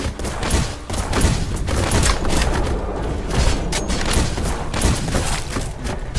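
Rocket launcher fire and blasts in the Black Skylands video game form a loud, continuous barrage of booming bursts and thuds that overlap densely throughout.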